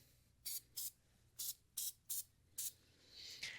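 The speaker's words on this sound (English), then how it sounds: "So spray it on the terminal," An aerosol can sprays a car battery terminal in about six short, sharp hissing bursts at a quick, uneven rhythm, followed by a longer softer spray. The sound is close and quiet.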